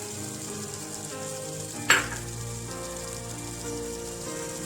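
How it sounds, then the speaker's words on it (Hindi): Mutton karahi masala frying in oil after yogurt is added, a steady close sizzle with one brief sharp spatter near the middle. "दही डालकर इसको अच्छी तरह से भूनेंगे"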